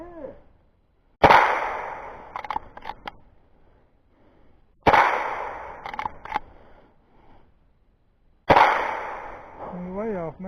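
Three sharp, well-spaced gunshots from a rabbit hunt outdoors, each a loud crack with a short ringing tail, separated by several seconds of quiet and brief low murmuring between shots.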